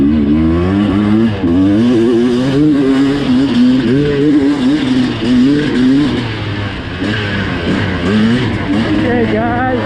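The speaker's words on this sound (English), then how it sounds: "I'm in the mild nap on the 300 two-stroke, which is my favorite." A Sherco SE300 Factory Edition two-stroke dirt bike engine in mild map out at Crow Canyon, buzzing and rising and falling in pitch as the throttle is worked, loud and near, with a voice talking over it.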